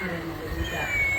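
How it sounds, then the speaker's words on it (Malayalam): A cat meows briefly close by, a single soft call rising over light background noise with a faint voice nearby. "കുഞ്ഞുമണിയുടെ കിടിലൻ കളിപ്പാട്ടം പൂച്ച"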